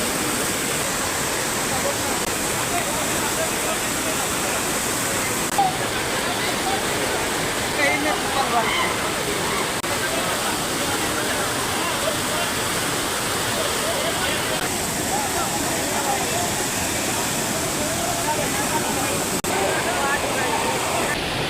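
Masaloddi waterfall at Doolapuram in Wazeedu, Mulugu, running with a strong flow, gives a steady, loud, unbroken roar of rushing water that fills the whole stretch.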